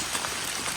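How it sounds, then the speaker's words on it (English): Cold rain falls on the Appalachian Trail in a steady, close patter of drops on surfaces, continuous and even through a brief moment. "It's not a nice summer rain where you just enjoy the rain and it's warm. It's a cold one."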